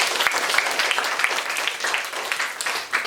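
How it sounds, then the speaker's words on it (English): Classroom audience applauding a panel of judges at a school debate, a dense continuous patter of many hands, fairly close and steady, fading slightly at the end. "So, we will give them a round of applause."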